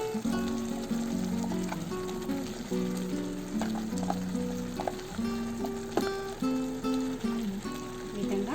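Raw papaya pieces sizzle in an open pan of hot oil, a steady close frying hiss with occasional clinks and scrapes of stirring, and no talk.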